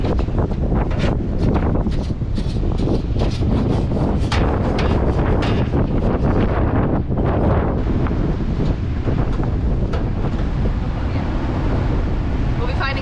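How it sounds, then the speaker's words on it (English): Strong wind blasting across a beach at Port Aransas, Texas, roaring steadily and buffeting the microphone throughout, with surf noise mixed in. "The wind is definitely a con for camping on the beach."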